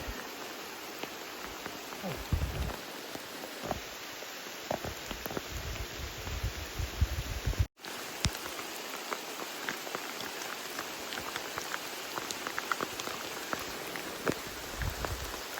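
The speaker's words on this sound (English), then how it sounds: "but it's raining" Steady rain falls on a campsite along the Appalachian Trail, a dense, continuous patter of drops at close range, with occasional louder splats and a brief dropout partway through.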